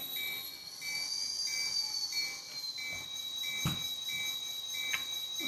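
A model train locomotive running while cars are uncoupled behind it: a steady electric whine and hum with faint thin squeals and a couple of small clacks.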